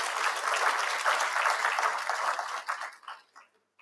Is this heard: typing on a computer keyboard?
no